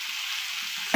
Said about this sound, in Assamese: এতিয়া বিলাহী ভাজি আছোঁ